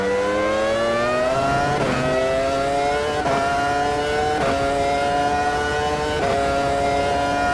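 An F1 race car engine in the Automobilista 2 racing game, 2000 season, revving loudly and continuously, its pitch climbing and then dropping at each gear shift, five or six shifts in a row, with no voices.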